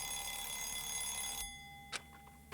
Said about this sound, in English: I turned my head to the right to see a small old-fashioned alarm clock on the nightstand.